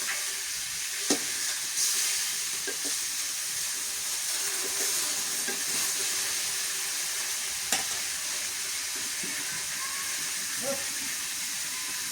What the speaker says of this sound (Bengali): মাছের মাথা লেজ ভাজা হয়ে গেছে